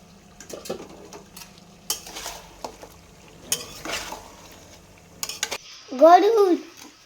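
Meat cooking with chopped chui jhal stems in a pot, with scattered clinks and scrapes of stirring that come and go, and a brief louder burst near the end.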